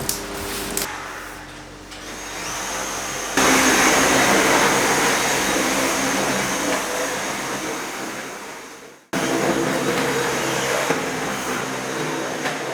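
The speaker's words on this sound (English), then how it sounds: "We've done a big vacuum." A vacuum cleaner roars steadily nearby, its motor pitch shifting as it works, cutting out briefly then starting up again.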